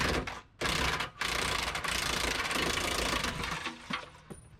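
Power tool or impact wrench loosening bolts on an RV pin box during a MORryde rubber pin box install, a continuous loud mechanical whirring with brief drops, close and without talk.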